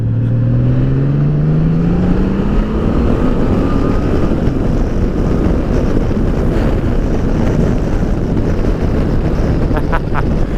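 Engine of a 2018 Honda Goldwing motorcycle accelerating while riding, a steady loud drone with rising pitch early on, blended with heavy wind rush across the microphone throughout.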